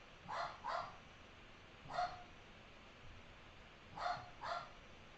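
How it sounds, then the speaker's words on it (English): A dog barks indoors in a few short bursts: a quick double bark, a single one, then another pair, moderately close and fairly loud, with no talking. "And of course, Indy is barking"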